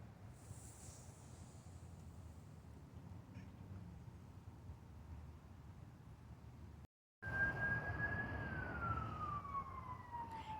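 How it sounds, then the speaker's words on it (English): Emergency vehicle sirens wail faintly in the distance beneath steady outdoor background noise, with a rising-and-falling siren tone becoming clearer after a brief dropout near the end, alongside smoky-sky ambience and an occasional bird squawk. "And I keep hearing fire, well, emergency vehicles."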